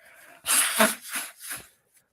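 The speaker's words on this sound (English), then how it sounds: "Blow my nose." A single close nose blow, a few short forceful honking bursts into a tissue, then quiet.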